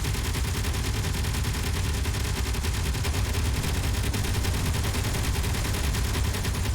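Sustained automatic gunfire in a video game pours out as a dense, unbroken rattle of rapid shots, loud and close with no pauses.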